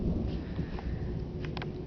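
Thunder during a severe storm, a low continuous rumble heard from a distance, moderately loud and steady, with no talking.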